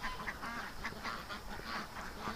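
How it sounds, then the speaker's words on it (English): A group of ducks at dusk, faint quacks and honks repeating in a loose rhythm at a distance, with no talk. "this group of ducks took off down here"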